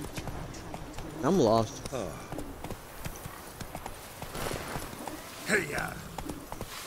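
Rapid hoofbeats of a horse galloping in The Witcher 3, heard in short bursts beneath a person talking over the game audio.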